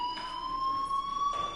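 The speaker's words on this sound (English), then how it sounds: "Hey, do you hear that fire alarm?" Fire alarm in the video game Life is Strange, a steady, unbroken high electronic tone sounding continuously at moderate level, with faint background noise and no speech.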